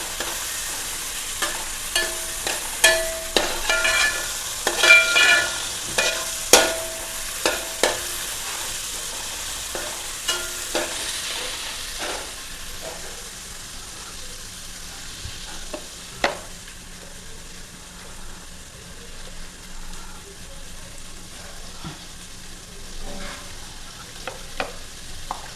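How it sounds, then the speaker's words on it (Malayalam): Sliced onions sizzle and fry in a pan for a thattukada-style tapioca biryani, with repeated scraping stir strokes clustering in the first half before settling into a steady, quieter sizzle. "അത് ഉള്ളിയൊന്ന് മൂക്കട്ടെ."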